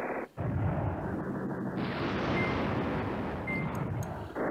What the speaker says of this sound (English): drop another airstrike on him. Boom.